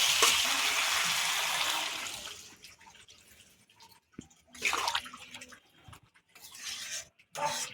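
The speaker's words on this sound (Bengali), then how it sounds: "এবারে জল দেব।" Water poured into a pan of fried-down fish curry with pumpkin and potato, a loud hissing sizzle that fades after a couple of seconds, followed by quieter splashes, stirring and clatter.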